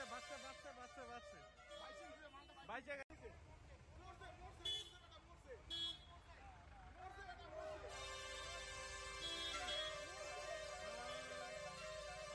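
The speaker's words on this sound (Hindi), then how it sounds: "सड़क के किनारे खड़े डंपर चालकों ने जोर से हॉर्न बजाया" Dumper truck horns honk and blare amid busy roadside commotion near a forest with an elephant, with people talking and a long sustained horn toward the end.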